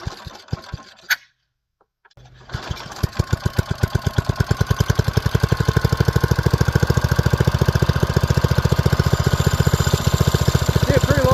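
An old go-kart engine with no air filter gets a few pulls and a brief pause, then fires and settles into a loud, steady chugging run with rapid, evenly spaced beats close by.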